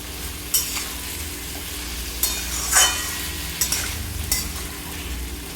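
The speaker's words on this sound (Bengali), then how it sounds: "মোটামুটি 3 থেকে 4 মিনিট আমি লাউ শাক দিয়ে ভালো করে নাড়াচাড়া করে নেব।" Bottle gourd greens and stalks sizzle in a frying pan while a spatula stirs them, steady frying noise broken by several close scraping and clinking strokes.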